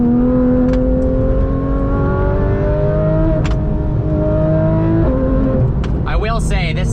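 A Porsche 911 GT3 RS engine and exhaust while driving: loud, close engine tone climbing through the revs in gear, with a few sharp shift breaks and exhaust crackles, then a burst of popping near the end.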